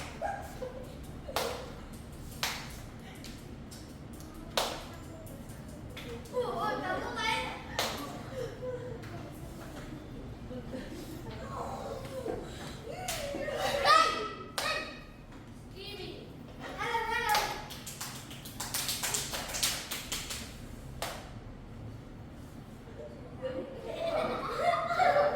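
Children in a Vietnamese elementary school Korean class clap during a 2-4-7 number counting game, sharp isolated claps scattered through steady chatter, laughter and a teacher's voice.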